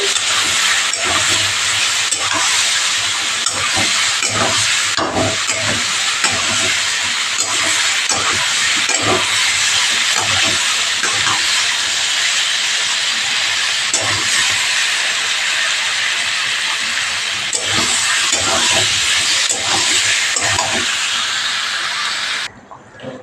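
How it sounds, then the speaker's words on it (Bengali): A steady, loud hiss of bubbling and sizzling fills the whole stretch as fish curry gravy boils hard in a pan, with scattered clinks and no talking. "ঝোলটা আমার ফুটছে"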